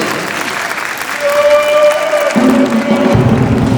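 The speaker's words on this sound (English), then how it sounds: "a big round of applause for them to start the Pofiri celebration" A festival audience claps loudly for Pacifica Maori drummers at a multiethnic dance festival in New Zealand, dense sustained applause close by that swells slightly partway through.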